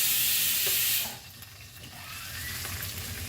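Onion sautéing in a teaspoon of oil for Goan pork sausages: a loud, bright sizzle for the first second, then settling into a softer, steady frying hiss.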